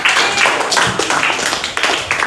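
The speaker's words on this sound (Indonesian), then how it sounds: "tepuk tangan untuk kelompok" Classroom applause for a student group after a plant-potting presentation: many hands clapping in a dense, steady patter, fairly close, lasting about two seconds.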